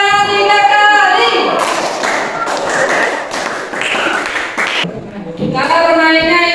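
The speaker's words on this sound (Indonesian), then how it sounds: "Kita coba dulu ayo. Tepuk tangan 3 kali." Children clap their hands in a classroom game at an elementary school, a burst of sharp, close claps in the middle, with a teacher's voice speaking before and after.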